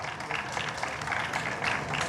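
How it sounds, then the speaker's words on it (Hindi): A seated audience at a talk show applauds a painter who has stood up, a short, fairly soft burst of scattered clapping with a faint murmur of voices under it. "तालियां मेहताब अली के लिए ज़ोरदार"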